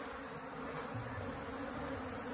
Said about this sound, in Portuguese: Estamos nas abelhas aqui,